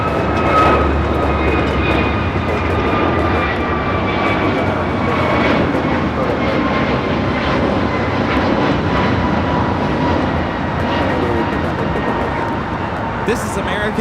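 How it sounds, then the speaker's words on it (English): An American Airlines Airbus A321neo takes off at LAX, bound for Dallas Fort Worth. A loud, continuous engine roar with tonal whine fills the scene, and voices can be heard faintly under it. "This is American Airlines 2882 taking off to Dallas Fort Worth on the A321neo."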